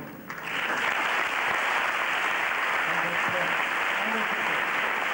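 A steady burst of audience applause filling the Auditorium de Palma during a 1991 debate, dense and continuous after a brief quieter start, with a few faint voices underneath.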